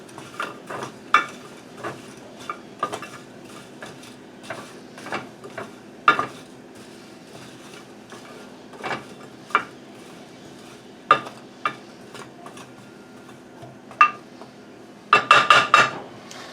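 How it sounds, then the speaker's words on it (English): Blackberries are stirred in a bowl with a little flour to coat them, giving irregular close clinks and scrapes of a utensil against the bowl, ending in a quick cluster of taps, with no talking. "Give this a little mix to coat."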